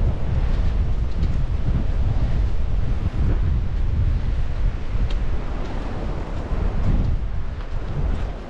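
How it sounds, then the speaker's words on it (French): Strong wind roars continuously across the microphone on an exposed hillside near Lac de Bious-Artigues, loud and gusting throughout. No voices. "je suis face au vent"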